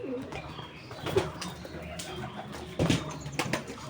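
Pigeons flutter and coo in a busy flock, with a couple of louder wing-flapping bursts standing out over a steady background murmur.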